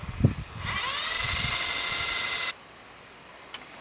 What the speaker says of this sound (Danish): der er så taget en boremaskine og et 6 mm bor. Og så kan jeg have boret et hul til stilladsøjet